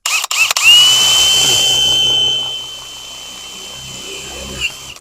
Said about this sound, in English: drill through the wood and get to the metal